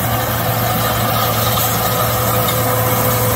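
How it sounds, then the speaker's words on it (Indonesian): An asphalt road roller's diesel engine running, a loud, steady low drone with a constant hum, continuing unchanged before cutting off abruptly at the end. "Ini dia video mesin penggiling aspal."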